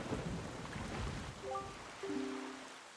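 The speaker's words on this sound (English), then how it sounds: "this place suffers under dark clouds and rain" Rain falls steadily with low thunder rumbling on a cursed, dark-clouded island in The Legend of Zelda: The Wind Waker HD, faint and continuous, with a few brief tonal game notes partway through.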